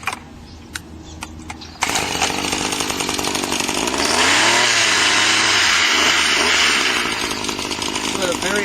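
A RedMax SGCZ2500S reciprocating brush cutter, a small gas engine, starts loud and buzzing, then revs higher while its blades chatter through cattails, the roar steady and close throughout.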